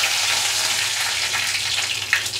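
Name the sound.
dried red chilli and curry leaves frying in oil for tempering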